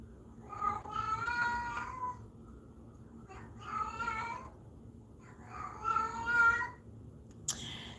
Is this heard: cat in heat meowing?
yes